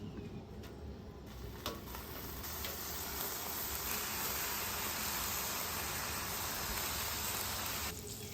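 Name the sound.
bacon sizzling on a griddle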